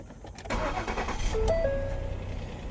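A car engine that makes a knocking noise like a worn connecting rod cranks briefly, then catches and settles into a steady, fairly loud idle close by, with no talking.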